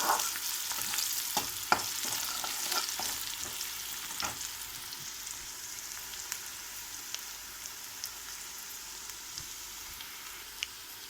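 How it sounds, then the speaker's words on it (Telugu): Ginger garlic paste fries in a pan with curry leaves for a colocasia (chamagadda) fry, giving a steady hiss with scattered clicks of stirring at the start that fade into a continuous sizzle. "అల్లం వెల్లుల్లి పేస్ట్ వేసుకుందాము."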